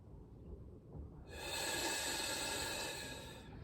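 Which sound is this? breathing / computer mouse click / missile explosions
breathing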